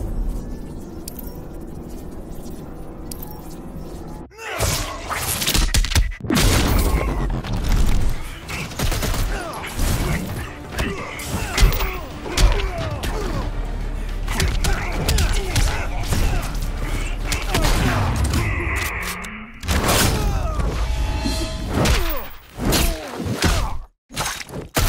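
Deadshot's gunfire in the Injustice 2 fighting game: rapid volleys of loud shots and heavy impact thuds come in dense bursts, broken by a few short pauses and mixed with clashing combat effects.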